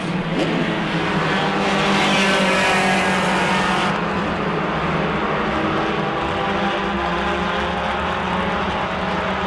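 Race cars roar around the New Smyrna track during a heat, a loud, continuous engine drone with cars passing close and a brief surge of higher-pitched whine early on.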